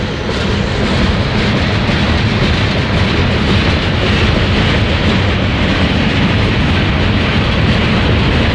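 A heavy freight train hauled by locomotives rolls past at Tehachapi, its loud, continuous rumble and clatter of wheels filling the whole stretch at close range.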